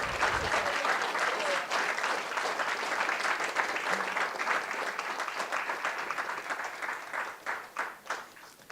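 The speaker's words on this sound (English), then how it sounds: "Round of applause for Health for You." A crowd at a women in tech hackathon finals applauds steadily for several seconds, the clapping thinning out toward the end.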